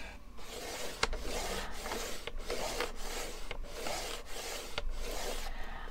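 A paper card being folded and creased into a fan, heard as repeated rasping rubs of a finger or tool pressing along the paper, several regular strokes close up with no talking.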